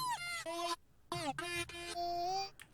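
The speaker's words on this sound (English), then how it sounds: "he started playing harmonica in the car" Edited harmonica sample, originally played inside a car, comes through as a few short bent, wavering reedy tones in quick bursts with brief gaps, loud and close and processed.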